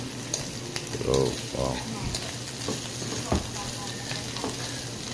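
Shrimp fry in a hot pan with egg while being stirred, giving a steady sizzle with occasional scraping strokes; a voice briefly says a single word near the start.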